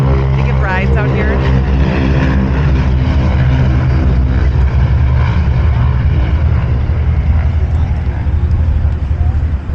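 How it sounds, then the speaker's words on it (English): Ford Tri-Motor propeller airplane taking off at an airshow field, a loud steady droning engine roar that holds throughout, with a person talking nearby over it. "That's the Ford Tri-Motor taking off right now."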